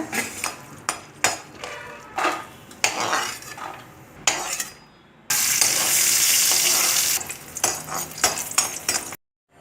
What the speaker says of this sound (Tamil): நெய் விட்டுட்டு முந்திரி பருப்பு திராட்சையை வறுத்து எடுத்துக்கோங்க